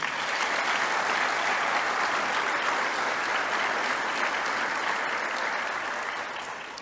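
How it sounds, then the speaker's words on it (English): Sustained applause from the audience at a high school scholarship awards night, honouring the donors. A broad, steady wash of clapping from many hands holds throughout and tapers slightly at the end. "How about one really big round of applause for all of our donors tonight?"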